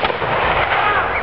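A volley of muskets fired by historical reenactors at a multi-period living-history event at Prestongrange, heard as a loud, sustained roar of gunfire with rolling echo filling the whole short moment, with no talk over it.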